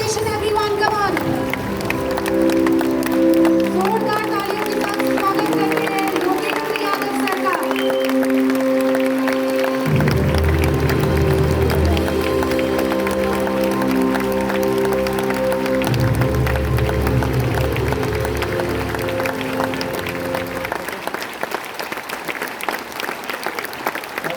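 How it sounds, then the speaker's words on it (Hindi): An audience at a Kargil Vijay Diwas silver jubilee ceremony in Kolkata applauds loudly to welcome Captain Yogendra Singh. The clapping runs steadily for the whole stretch, mixed with music. "आइए जोरदार तालियों के साथ कैप्टन योगेंद्र सिंह का स्वागत।"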